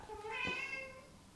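A house cat gives a single clear meow, drawn out and rising then falling, close by in a quiet indoor room.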